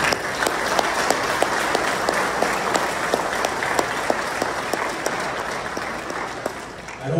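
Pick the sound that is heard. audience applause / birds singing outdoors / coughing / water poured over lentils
audience applause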